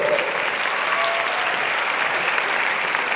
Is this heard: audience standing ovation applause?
yes